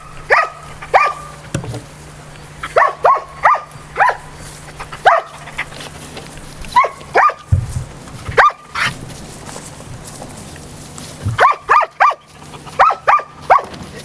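A search dog in training barks in short bursts of several sharp barks, repeated in clusters with pauses between, fairly close and loud against a low steady hum.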